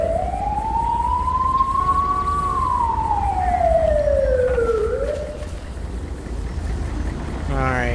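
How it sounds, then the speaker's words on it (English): An ambulance siren in the video game GTA V, heard during a police patrol, sweeps up and then down in a long clear wail, loud and near, followed by fainter rapid yelping at the end. "Here's the ambulance"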